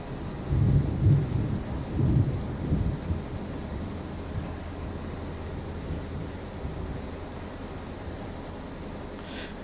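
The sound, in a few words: rain and thunder in Train Sim World 4 video game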